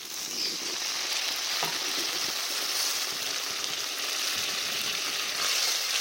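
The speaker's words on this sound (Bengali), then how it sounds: "এখানে আমরা জল অ্যাড করে দেবো।" Water poured into a pan of sizzling fried masala produces a loud, continuous hiss and crackle that holds steady throughout, with a few faint clinks.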